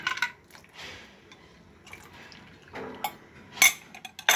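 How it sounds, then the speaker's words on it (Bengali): A spoon clinks and scrapes against a bowl while milk is stirred into a mixture, with short liquid sloshes between the taps and a louder clatter near the end. "দুধটা আমি গুলিয়ে নিচ্ছি। এখন আমি এটা এখানে মিক্স করে দেব।"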